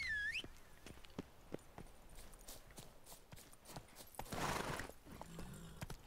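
Horse hooves clip-clop in The Witcher 3, a spaced run of hoofbeats with a whinny at the start and a louder rustling burst near the end.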